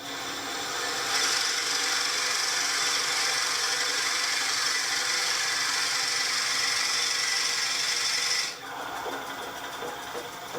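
A lathe spinning at around 800 RPM drives a brad point bit into wood, giving a steady, loud scraping whir that runs unbroken for about eight seconds, then cuts off abruptly to a quieter hum.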